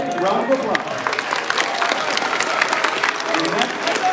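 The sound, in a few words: applause for graduating students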